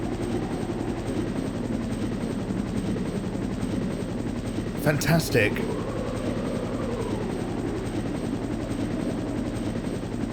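A steady whirring helicopter drone fills the background of game audio, with a brief burst of sharper noise midway and a short spoken remark.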